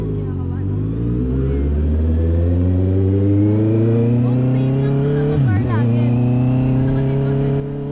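A gray 2023 Honda CB650R inline-four motorcycle engine revs loud and close while riding, its pitch climbing steadily through a gear with a brief dip at a shift, then pulling again.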